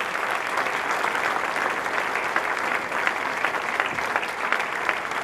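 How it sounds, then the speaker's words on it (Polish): Enthusiastic audience applause at an economic forum awards gala, honoring a prime minister as Man of the Year, forms a thick, continuous clapping roar from a large hall crowd, steady from start to finish. "Wielkie brawa, proszę Państwa."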